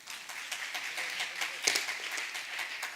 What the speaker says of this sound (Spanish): Denles un aplauso, amén